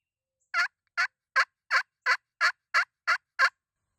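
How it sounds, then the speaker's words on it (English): A wild turkey calls outdoors during a hunt with a rapid series of nine evenly spaced gobbling bursts, clear and isolated against near silence. "I got a turkey gobbling off to my right."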